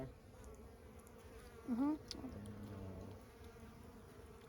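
Steady buzzing of wild bees in the desert hums through the whole clip, with a brief murmured voice partway in and faint outdoor background.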